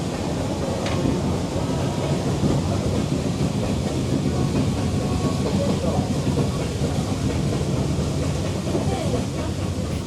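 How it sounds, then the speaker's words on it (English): The Brienz-Rothorn cogwheel steam locomotive train runs on the Swiss mountain railway, giving a continuous, dense rumble and rattle of the running train that holds steady throughout. "dive into the fascination of the steam locomotive"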